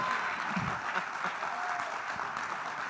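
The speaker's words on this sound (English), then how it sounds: "give a huge round of applause to Max Essay Award winner" A crowd at a media talk event applauds an award winner. The clapping is steady and continuous, moderately loud, with faint voices mixed in under it.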